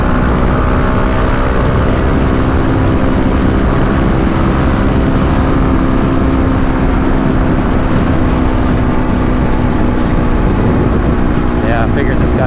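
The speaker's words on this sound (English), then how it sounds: "The wind noise is something you need to deal with earplugs or a good helmet" Constant loud wind buffeting and engine drone while riding a Kawasaki KLX250 dual-sport motorcycle at highway speed, a dense unbroken roar that fills the whole stretch.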